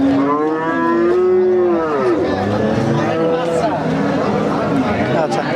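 A dairy cow at a busy cattle market gives a long, loud, close moo that bends downward, with crowd chatter and voices talking around it.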